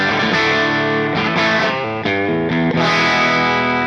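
An electric guitar through the clean channel of a Joyo Jam Buddy 800 pushed into breakup, strummed chords ringing loud and gritty with a few sharp changes.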